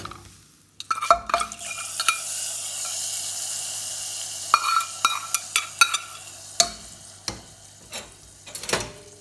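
A hot asafoetida tempering is poured into Kerala-style sambar and stirred: a broadband hiss of sizzling, then a run of sharp spoon-against-pot clinks and knocks, fairly close, with no talking.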